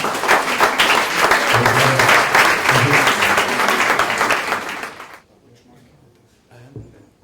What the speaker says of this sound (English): John from Engage Video Group, give him a huge round of applause.